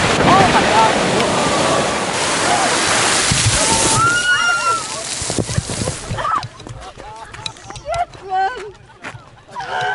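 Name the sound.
Strokkur geyser erupting and spraying water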